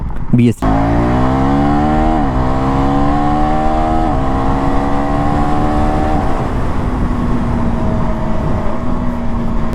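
A 2024 KTM Duke 390 motorcycle engine drones loudly and steadily, its pitch climbing through several gear shifts with brief dips between them, heard up close while riding.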